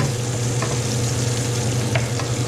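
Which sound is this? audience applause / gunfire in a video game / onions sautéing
onions sautéing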